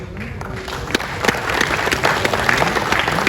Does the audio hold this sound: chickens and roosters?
no